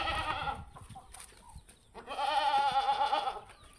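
Goats on a farm bleat loudly and close by, one wavering cry at the start, then a pause with faint rustling before a second long, quavering bleat.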